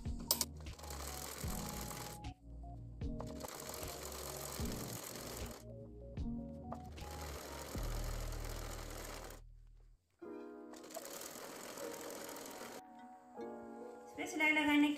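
A sewing machine stitches a double-folded frill strip for a small child's dress, running in several steady bursts of rapid whirring with pauses between, close and fairly loud, with brief other handling noises.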